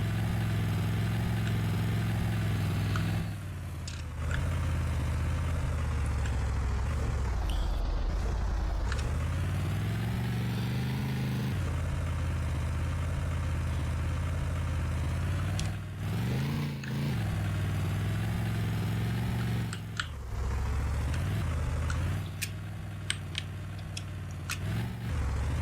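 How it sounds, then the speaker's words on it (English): A vehicle engine in Garry's Mod, engine braking down a slope, drones steadily and loudly with a few brief dips and shifts in pitch, alone without talk. "you're able to use the advantage the engine has to basically slow the vehicle down"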